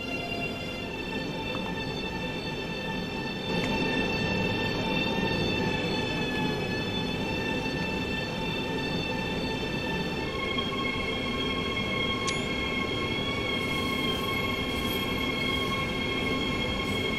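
A BR 187 electric locomotive hauling mixed freight between Dresden and Riesa in a train simulator pulls away with a steady whining motor hum over a low rolling rumble. The sound swells slightly after a few seconds and the whine shifts later on.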